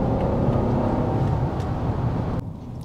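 A 571-horsepower Rolls Royce Cullinan pulling under acceleration, heard as a muted, smooth engine and road rumble inside the cabin that drops away abruptly near the end.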